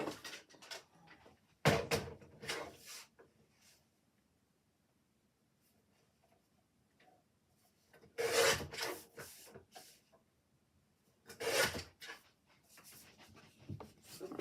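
A craft trimmer or blade slices through a piece of card to cut it down to size, heard as a few short, close rasping strokes separated by pauses of quiet.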